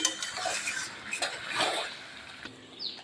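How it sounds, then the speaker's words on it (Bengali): Chicken kosha masala stirred and sautéed in a pan, a spoon scraping and clinking steadily against the metal over a soft sizzle, close and fairly quiet with no voices. "আর একটু কষবো।"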